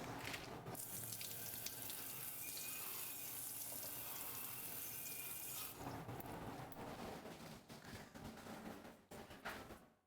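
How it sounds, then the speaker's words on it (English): Running tap water in a kitchen sink while a knife and cutting board are rinsed, a steady hiss of flowing water that shifts to splashing and clattering as items pass under the stream, no speech. "wipe off any dirt that could be on your cutting board. Rinse off your knife as well."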